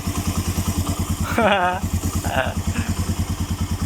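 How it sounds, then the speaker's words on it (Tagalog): A Suzuki motorcycle engine idles steadily and evenly after a tune-up, a close, loud, regular thumping pulse with brief voices talking over it. "nawala na yung lagitik, ganda ng andar"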